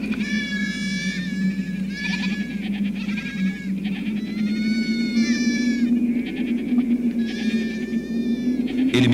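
A flock of about thirty sheep, kept by a shepherd out in open country, bleat in repeated overlapping calls over a constant low background rumble, some voices near and some farther off.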